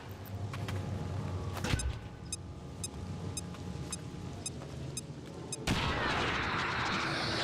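A grenade blast in the XCOM 2 video game: sharp gunfire cracks and booms lead into a sudden loud, sustained roar of an explosion filling the final seconds.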